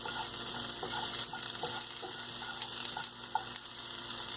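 Vegetables sauté in a pan for a vegetable puff filling, a steady close sizzle and hiss with a few soft clinks and stirring knocks scattered through it, and no voices.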